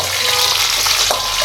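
Green chillies and chopped garlic fry in hot oil for a Madurai-style yam curry, giving a loud, dense, continuous sizzle close up with faint spoon movement, no voices.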